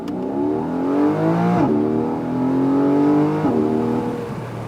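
Engine of a 2022 Porsche 718 Boxster GTS accelerating with paddle shifts in manual mode, revs rising steadily then dropping sharply at two quick upshifts, loud and close with no talking.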